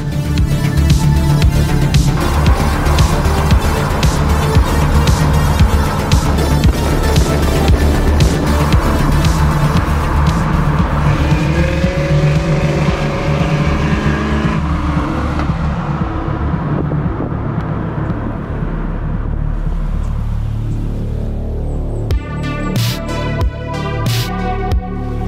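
A Chevrolet Corvette driving at night in Katowice, its engine roaring loudly and steadily with rising and falling revs, with tire noise and a few high chirps late on.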